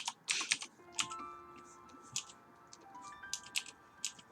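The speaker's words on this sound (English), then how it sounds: "Gotta provide that great keyboard ASMR." Typing on a computer keyboard clatters in uneven bursts of close, crisp key clicks, with faint music tones running underneath.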